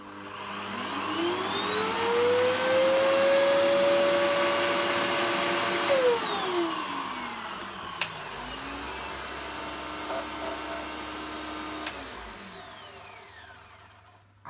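PurePower 350 watt vacuum cleaner running, a steady whirring motor drone that rises in pitch while spinning up and falls away, heard twice in succession, close and fairly loud.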